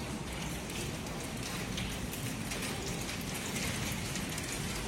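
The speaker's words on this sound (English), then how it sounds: "It's hailing." Steady, dense rain and hail patter during a violent storm in Tempe, Arizona, forming a continuous hiss with no talk over it.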